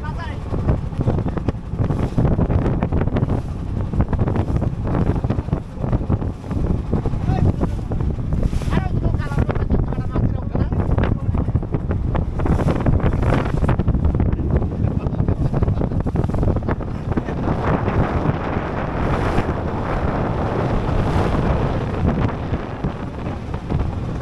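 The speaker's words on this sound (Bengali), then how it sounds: "প্রচণ্ড পরিমাণে বাতাস," Strong wind buffets the microphone with a steady loud roar during a boat trip on open water with big waves, with water washing around the boat throughout and voices talking intermittently.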